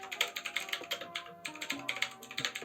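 Steady typing on a computer keyboard, quick close key clicks in uneven bursts with brief pauses, no voices.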